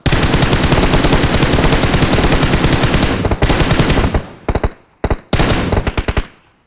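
Rapid automatic gunfire from a shooting video game rattles loud and continuous, then breaks into short clipped bursts with brief silences before a final burst.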